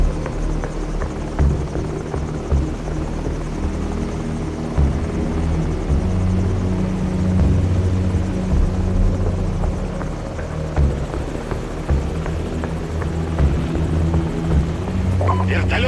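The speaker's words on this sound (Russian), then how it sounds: "Вертолет улетает!" Helicopter rotor thudding steadily as it flies away in the Call of Duty 4 video game, a continuous low chopping drone with gunfire and shouted voices over it.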